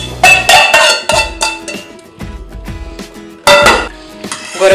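Cooked macaroni is rinsed and drained in a metal colander or pot, with loud clattering and clanking of metal in several bursts, short pauses between them and one more burst near the end.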